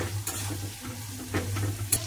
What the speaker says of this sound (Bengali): আমার এখন আলুটাও মোটামুটি ভাজা হয়ে গেছে